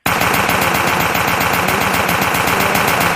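Rapid automatic gunfire in the Chic Blockos game, a loud, unbroken stream of evenly spaced shots from a player standing still and firing.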